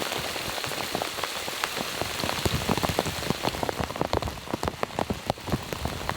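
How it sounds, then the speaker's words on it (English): Steady rain from Hurricane Ian pattering on a surface at a campsite, with dense drops tapping close by and growing slightly more distinct toward the end; no voices. "listening to the rain"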